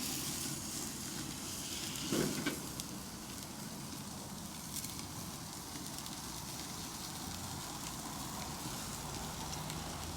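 A prime ribeye cowboy steak sears in a hot pan, giving a steady, dense sizzle and hiss that runs unbroken throughout, close and fairly loud, with no one talking.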